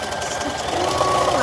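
A sewing machine back-stitches a face mask seam with a fast, continuous mechanical chatter, close and steady for the whole moment.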